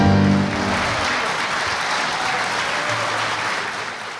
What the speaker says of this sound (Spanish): Fuerte el aplauso para este gran cantante